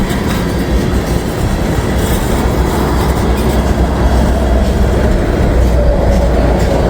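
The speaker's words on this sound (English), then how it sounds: "But 209 is an auto rack train" An auto rack freight train rumbles steadily past close by, a continuous loud rolling roar with faint clickety-clack from the wheels throughout.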